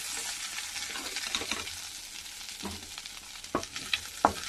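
Shrimp frying in a pan, giving a soft, steady sizzle close by, broken by a few sharp spatula scrapes and taps near the end, with no talk.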